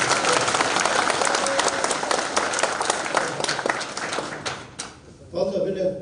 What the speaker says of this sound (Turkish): biraz daha kuvvetli bir alkış oldu